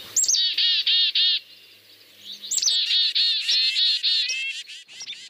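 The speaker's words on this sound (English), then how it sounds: "I put together years ago black-capped chickadee, red-breasted nuthatch, American robin, and tufted titmouse into this little mix I call chickadee cacophony." Recorded birdsong mix of black-capped chickadee, red-breasted nuthatch, American robin and tufted titmouse, bright rapid chirping phrases in two dense bursts with a short gap between, loud and close, played back with no talking.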